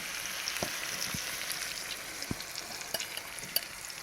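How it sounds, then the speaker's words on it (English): Eggs being stirred as they fry in a pan for a grilled SPAM, egg and cheese sandwich, giving a steady soft sizzle with occasional utensil scrapes and light taps against the pan, close and alone. "So we're just going to stir this up until the eggs are set and holds everything together"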